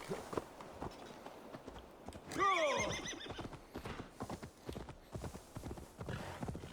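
Horse in Assassin's Creed Valhalla trotting with rapid clip-clop hooves, then letting out a loud, clear whinny, followed by continued hoofbeats at close range.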